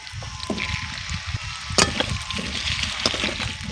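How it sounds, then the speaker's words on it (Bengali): Potato pieces frying lightly in oil, a continuous soft sizzle with occasional clatter and stirring knocks, close and moderately loud with no talking. "এবার এগুলোকে ভেজে নেব হালকা করে তেলেই কিন্তু ভেজে নিচ্ছি"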